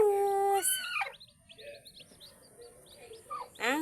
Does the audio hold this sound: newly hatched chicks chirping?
yes